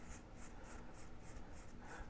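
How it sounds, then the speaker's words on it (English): An axle from a Carrera Digital McLaren slot car spun inside a strip of sandpaper, giving a steady, close, gritty rubbing hiss with soft pulsing scrapes and no talk. "I'm just going to spin the axle in the sandpaper"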